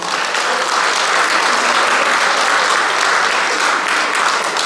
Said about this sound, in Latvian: Un te atkal dara aplausi